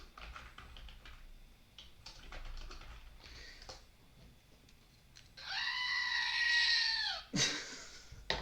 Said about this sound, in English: That's my screaming goat